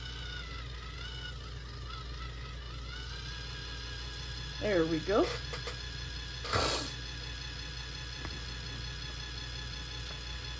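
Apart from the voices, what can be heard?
dual-head resin mixer running on high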